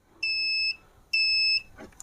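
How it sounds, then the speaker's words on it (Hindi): A multimeter set to continuity or diode mode sounds two clear, steady electronic buzzer beeps, each about half a second long with a short gap between, loud and close with nothing else heard. "मल्टीमीटर को आप कंटिन्यूटी या फिर डायोड मोड पर रखिएगा, जहाँ पर आपके मल्टीमीटर में इस तरीके से बजर बजती है।"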